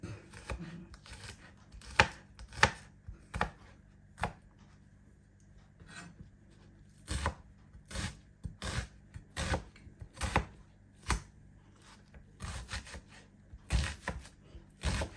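A knife chops garlic on a board with close, sharp, irregular knocks, sometimes in quick runs and sometimes spaced by pauses, heard alone without talk.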